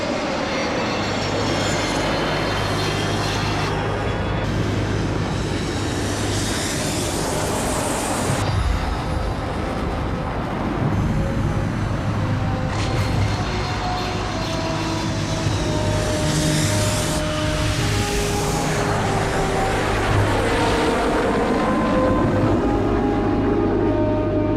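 A passenger airliner takes off from a runway, a loud, sustained jet engine roar with shifting whines and rumbles that swell and change over more than twenty seconds, with no talk.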